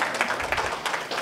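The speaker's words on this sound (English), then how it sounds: "So give yourselves a round of applause." An audience at a training event applauds, a short burst of fairly faint, dense clapping from many hands at a distance.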